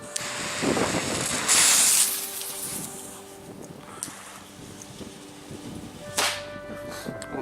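A Broekhoff Reaper firework fires in snow at a third-Advent display, giving a loud hissing whoosh early on and another sharp burst later, with wind and rustling noise between.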